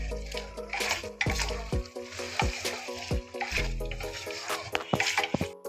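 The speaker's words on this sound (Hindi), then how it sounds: "मैंने खूब अच्छे से इसको मसाला डाल के खूब अच्छे से इसको चला लिया है" Spiced beef tripe being stirred in a pan, with a spoon clattering and scraping repeatedly against the metal in an irregular rhythm over a soft sizzle, close and fairly loud.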